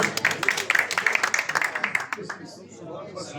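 An audience at a Bangladesh High Commission meeting in Malaysia breaks into rhythmic clapping, many hands beating a steady quick pulse that thins out and fades after about two seconds.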